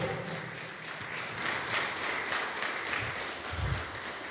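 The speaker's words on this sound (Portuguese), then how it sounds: "Pode aplaudir o nome do Senhor." A church congregation applauds, producing a steady wash of many hands clapping at moderate volume, slightly distant and roomy, without a break for about four seconds.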